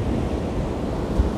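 A stormy sea crashes on the shore at Anapa under a strong side wind, heard as a brief, dense roar of surf and wind buffeting the microphone.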